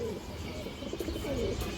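An aluminium silver male pigeon coos softly in a low, repeated murmur, faint and close, with a steady background hum.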